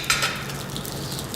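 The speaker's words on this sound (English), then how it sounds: "Let's place the salmon cakes on the grill for 5 minutes or until golden brown." Quinoa and lime salmon cakes sizzling on a grill give off a steady, soft hiss with a faint crackle. The sound is short, close and continuous, with no talking.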